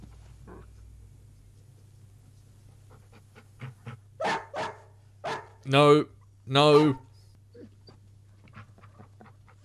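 Dog barks, whimpers and pants from a horror film soundtrack, with several loud yelps midway over a low steady hum, while a person speaks briefly.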